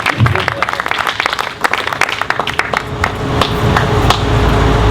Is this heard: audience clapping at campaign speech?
yes